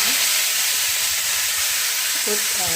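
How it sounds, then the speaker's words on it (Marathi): Eight to ten peeled garlic cloves sizzle and fry steadily in hot oil for dhaba-style garlic fenugreek curry, a continuous dense crackling hiss with faint stirring near the end and no talking. "आठ दहा लसणाच्या पाकळ्या सोलून टाकलेल्या आहेत तर मस्तपैकी आपल्याला आता भाजून घ्यायच्या तेलामध्ये"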